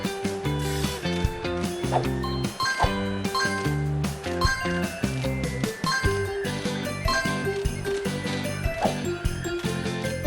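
Bright, chiming jingles from collecting dog treats in the PAW Patrol: On a Roll video game ring repeatedly over bouncy background music, with no talking.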